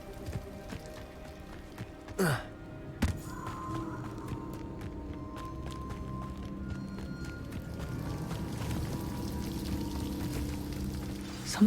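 Continuous rushing and splashing of a waterfall in Hogwarts Legacy, a steady mid-level wash of falling water, with a few sharp knocks early on.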